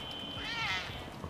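A single short, soft cat meow from a cat in the video game Grand Theft Auto V, heard faintly over a low background hum.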